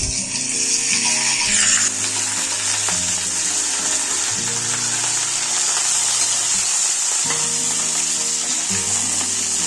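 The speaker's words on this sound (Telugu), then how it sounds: "ఆయిల్ వేడెక్కింది, బెండకాయలు వేపుకుందాం." Okra sizzles and fries in hot oil in a pan, a loud, continuous crackling hiss with occasional scraping stirs and clinks, close up.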